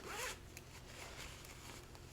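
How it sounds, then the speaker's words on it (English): A zipper slides on a small quilted notions pouch, opening with a quick close rasp at the start, followed by faint handling rustles. "Zipper."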